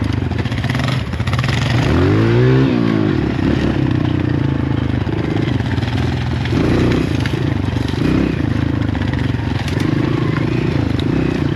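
A Raptor ATV engine revs and drones loudly on a storm-damaged dirt trail in New Jersey, with a rising and falling rev near the start over continuous rough, close engine noise and rattling.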